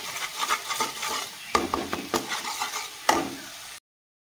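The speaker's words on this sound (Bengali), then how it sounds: "তো হালকা একটু মশলাটাকে আমি নাড়িয়ে চাড়িয়ে" Turmeric, cumin and coriander powder stirred in a frying pan for palak paneer, with busy scraping strokes of a spatula over a soft sizzle, close and continuous, no voices.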